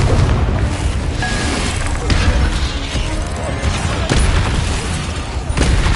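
Confringo spell blasts in Hogwarts Legacy, loud repeated explosive booms and crackling impacts over dense game noise and combat clatter.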